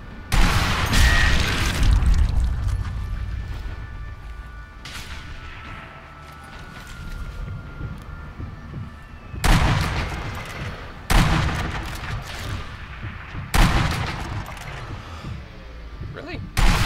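Gunfire in the shooter game Sniper Elite V2, several loud, booming rifle shots spaced a few seconds apart with echoing tails, while someone talks over the game sounds.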